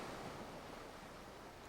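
Ocean surf washes onto a beach as a soft, steady, distant wash of noise that fades slightly, with no voices.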